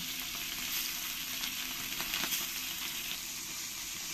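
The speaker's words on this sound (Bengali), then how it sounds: "এরকম একটু লাল লাল করে ভালো করে মাছগুলো ভেজে নিতে হবে।" Fish pieces fry in oil with a soft, constant hiss and scattered faint crackles, close by with no voices.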